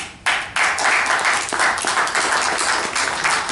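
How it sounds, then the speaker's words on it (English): Conference audience breaks into loud, close applause after a short quiet moment, with dense overlapping claps that continue steadily to the end. "we should really give them a good hand of applause for all of what they're doing"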